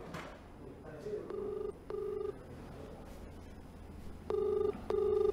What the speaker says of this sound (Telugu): ఎస్ఐ నెంబర్ రింగ్ అవుతుంది.